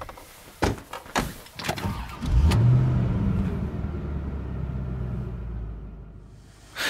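An old car starts up: a few sharp knocks and clunks, then the engine catches and settles into a loud, steady low rumble as it pulls away, with no talking.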